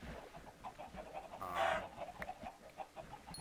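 Chickens clucking in Minecraft around an automated chicken farm, a soft continuous patter of small clucks with one louder squawk in the middle, faint and distant.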